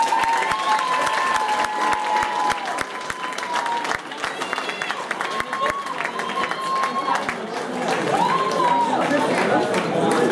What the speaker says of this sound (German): Geben Sie mal beide einen richtigen Applaus